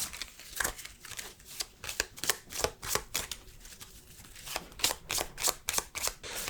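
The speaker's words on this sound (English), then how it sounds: "Let's go ahead and get one final shuffle" Rapid riffling card shuffles, a series of crisp bursts repeating in quick succession, close and fairly soft with no talking.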